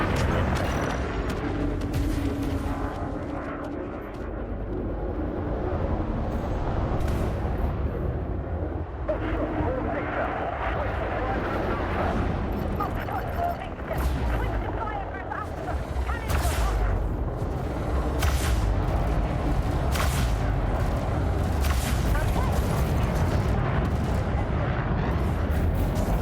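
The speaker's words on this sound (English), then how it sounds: "Close range frag cannons will do the trick." Close-range frag cannons fire in a video game space battle against an enemy hull, a dense, continuous roar of booming blasts and explosions with a voice talking over it throughout.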